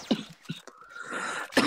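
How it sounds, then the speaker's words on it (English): A sick young man coughs twice, short harsh bursts close to the mic, separated by a brief murmur of breathy noise. "Sorry that I keep coughing,"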